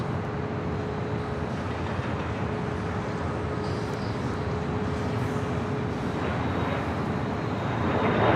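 Southwest Airlines Boeing 737 MAX 8 at Los Angeles International Airport, a steady broadband jet roar that holds throughout and swells slightly louder toward the end, with no voices.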